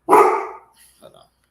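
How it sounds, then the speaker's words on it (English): A single loud, close dog bark opens, followed by a couple of softer, shorter yips or muffled barks trailing after it. "before he started barking, Casey did."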